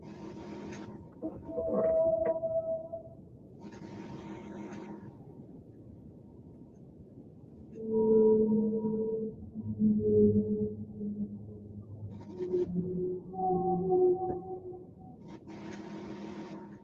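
Whale song made of several sustained, wavering tonal calls and lower groaning moans that come in separate phrases over a steady low underwater rumble, with no voices.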